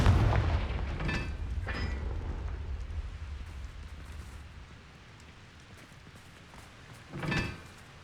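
A Confringo fire spell from Hogwarts Legacy bursts loudly in a deep booming blast that rumbles and fades over a few seconds, followed by a second, shorter explosive thud near the end.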